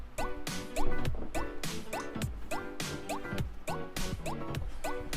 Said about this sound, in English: I'm going to get a drink real quick.